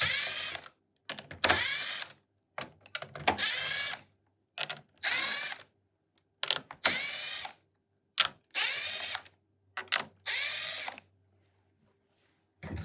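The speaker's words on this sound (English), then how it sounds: "So I'm simply loosening them up so I can finger loosen them off." A power driver loosens the screws on the back of an ALX-LITE or ELITE chemical allocation controller in short, separate whirring bursts, about a dozen of them, each stopping abruptly, with quiet gaps between and no talk.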